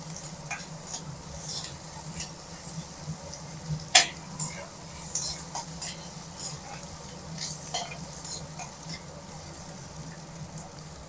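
Onions sautéing in a pan for channa masala, a soft steady sizzle with light scraping stir strokes and occasional clicks of a spoon against the pan, fairly quiet.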